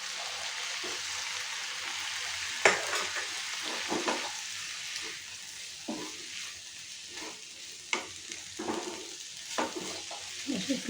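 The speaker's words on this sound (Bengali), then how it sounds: "খুলে এবার আমি টমেটোটা এটার মধ্যে মিশিয়ে দিলাম" A spoon stirs tomatoes into snake gourd (chichinga) masala frying in a pan, giving a steady sizzle with scattered scraping and clinking strokes, close and moderately loud, with no talking.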